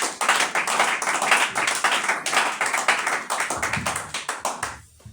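A church congregation breaks into sustained applause, many hands clapping densely and continuously in a full room before it fades out at the end.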